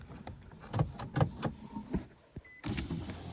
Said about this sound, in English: Now the window goes up and down perfectly, no noise.